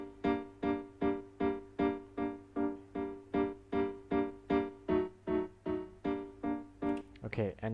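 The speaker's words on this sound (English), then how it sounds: "this third layer is the piano sound" A looping piano layer in a home-made beat, with evenly spaced chords repeating at a steady pulse, each one struck and then decaying, fairly quiet, playing alone without talk.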